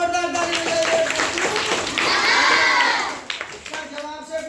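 A classroom of children bursts into a short round of clapping lasting about a second, set between stretches of speaking voices.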